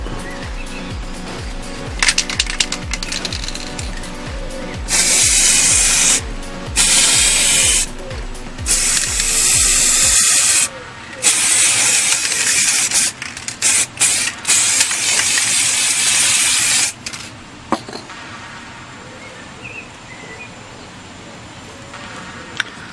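Final coat of lacquer sprayed from an aerosol onto hair clippers: repeated loud, close bursts of hiss broken by short pauses, after a run of rapid mechanical ticking at the start, then fading to quieter handling noise.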